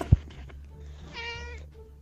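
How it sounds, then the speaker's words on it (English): A cat gives a single clear meow about halfway through, close and moderately loud, after a sharp knock near the start against quiet background hum. "is that the cat, dude?"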